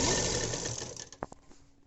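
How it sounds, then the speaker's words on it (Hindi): A sewing machine stitches the side seam of a baby dress, a dense mechanical whir close by that stops partway, followed by a few scattered clicks and fabric handling. "यहाँ पर अब हम अपनी साइड वाली सिलाई लगाएंगे।"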